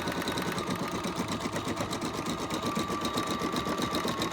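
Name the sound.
Bernina 630/640 embroidery machine stitching a name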